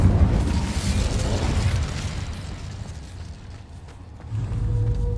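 Incendio fire spell in the Hogwarts Legacy game, a sustained roaring whoosh with heavy low rumble that fades midway and swells again near the end.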